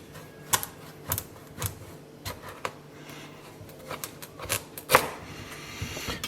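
A kitchen knife cuts an Italian squash in half, giving a series of sharp, close cracks and clicks as the blade pushes through the hard rind, irregularly spaced, with one louder snap near the end.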